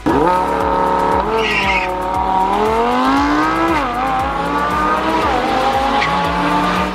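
A Lamborghini Huracan engine drones loud and close throughout, with rising and falling revs as the car drives, gear changes shifting the pitch, and a brief high squeal near the start.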